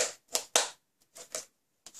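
Quiet plastic clicks and snaps in short bursts, latches popping open on an airtight plastic container, with brief pauses between them.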